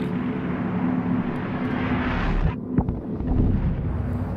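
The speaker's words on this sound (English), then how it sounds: "another explosion just blows me away" An explosion in the video game Inside: a heavy rumbling roar builds, then a sharp, deep blast hits, with lower-level debris-like rumble trailing after.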